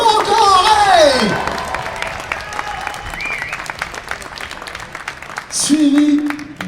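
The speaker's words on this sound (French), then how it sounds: "Ross Marquand, applaudissements encore" A convention crowd at a Toulouse gaming show claps steadily for actor Ross Marquand, continuous applause beneath a host's loud amplified voice at the start and again near the end.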